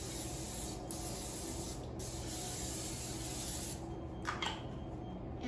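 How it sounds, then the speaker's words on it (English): Non-stick cooking spray hisses steadily into a 9 by 13 inch baking dish in one long continuous spray, close and soft, ending in a couple of short puffs with no talking. "I'm going to spray it with a non-stick cooking spray"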